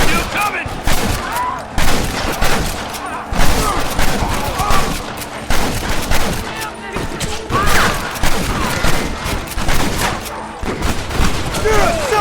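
Dense, sustained gunfire from a Red Dead Redemption shootout on PS3, rapid overlapping shots crackling continuously for the whole stretch, loud and close, with shouted voices mixed in.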